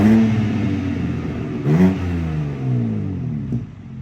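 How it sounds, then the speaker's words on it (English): A 2023 BMW M3 with a 6-speed manual and quad-tip M exhaust idles with a deep burble, then blips sharply twice to a rising rev that falls back. It is close and loud with no talking. "give you guys a quick exhaust clip"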